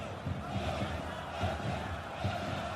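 A large football stadium crowd at a Barcelona versus Real Madrid La Liga match keeps up a constant roar, with rising chants and shouts.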